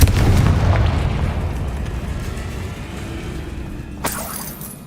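A Confringo blasting spell goes off in Hogwarts Legacy with a loud, close explosion that booms and crackles, then decays into rumbling debris before a second sharp burst near the end.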